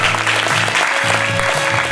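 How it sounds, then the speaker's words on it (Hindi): Audience applause at a live quiz competition held at a university hall, a dense steady wash of clapping filling the whole stretch at even loudness. "भरपूर ताली होनी चाहिए सबके लिए"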